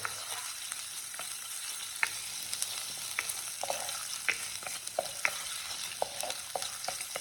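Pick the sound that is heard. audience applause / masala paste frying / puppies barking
masala paste frying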